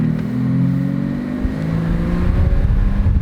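A used BMW car drives and accelerates, its engine droning with rising tones as the transmission shifts, heard from inside the car at close range with no talk.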